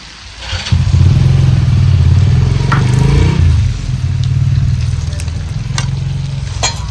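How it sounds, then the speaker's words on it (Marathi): Water splashed into a pan of dried bombil chutney bursts into a loud, steady sizzle that starts after a brief quiet and keeps crackling and hissing to the end, easing slightly midway. "आता थोडासा ह्याला पाण्याचा मी अजून शितोडा देते."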